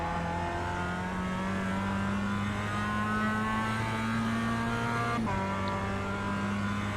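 A Mazda MX-5 Cup race car engine in the iRacing game at Summit Point Raceway, a continuous buzzing drone slowly climbing in pitch, broken by a quick gear shift near the end, then holding steady.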